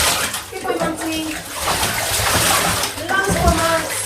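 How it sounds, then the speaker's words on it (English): Water splashes and sloshes as a dog named Monty has his face rinsed during a bath, a steady pouring wash with a voice talking over it. "We'll do a couple of rinses of his face."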